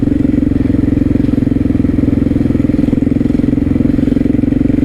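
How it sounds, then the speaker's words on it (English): A KTM 660 SMC supermoto engine running loud and close, a steady rapid single-cylinder thumping drone with a rattly, clattering edge and no pauses. "this bike is so noisy, it's embarrassing"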